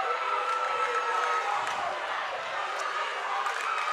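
Crowd cheering and roaring at a Vermont Division 3 high school basketball final, Hazen versus Thetford, a loud sustained wall of voices filling the gym with a few squeaks and shouts.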